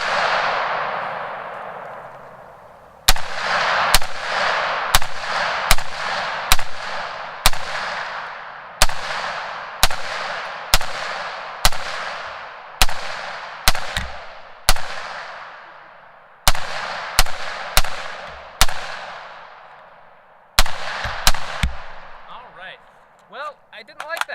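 A rifle fitted with an eBay muzzle brake fires Tula 150-grain FMJ rounds outdoors, about twenty loud, sharp reports at an uneven pace, each trailing into a long ringing decay, close and alone.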